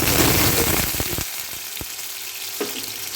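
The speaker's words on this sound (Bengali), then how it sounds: "এই ফোড়নের মধ্যে কেটে রাখা আলু" Cut potatoes hitting hot oil tempered with bay leaf and white cumin: a loud, dense sizzle that flares at first and then settles to a softer crackle, with a few sharp pops and spoon knocks.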